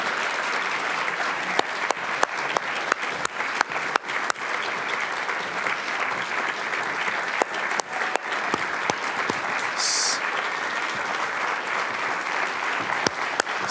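Sustained, loud audience applause fills a hall for honorees at a pitch competition finale, steady clapping with scattered louder claps and faint crowd noise throughout.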